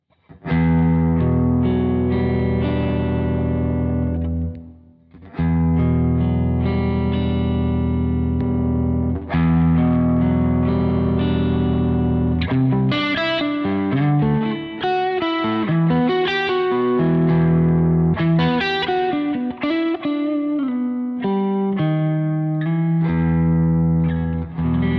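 Electric guitar runs through a tube drive pedal into an Axe-FX, sustained distorted chords giving way after a short break to busier picked riffs with strong attack, loud and continuous.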